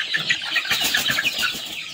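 Native country chickens cluck softly in short repeated calls, close by, in a brief overlapping flurry.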